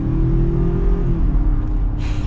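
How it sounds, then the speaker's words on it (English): Ford Ranger Tremor pickup truck with a 10-speed automatic accelerating, a loud close engine drone whose pitch falls as it shifts up, with a faint whoosh at the end. "We're going to be getting our acceleration here with the Ranger Tremor."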